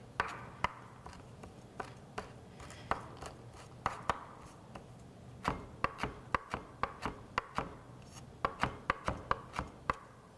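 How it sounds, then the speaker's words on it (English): A knife rough-chops toasted bread on a board, a steady run of sharp, close taps at an uneven, quick rhythm with no talking. "we're just going to give it a nice little rough chop right here."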